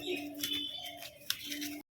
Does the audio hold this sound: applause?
no